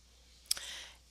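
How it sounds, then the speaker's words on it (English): A single sharp computer mouse click on a Next button during an online course walkthrough, one quick isolated tap in an otherwise quiet room. "So now I'm going to click Next"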